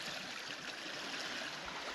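Water rushing through a gold prospecting classifying sluice box, a continuous, even wash of flowing water with no break.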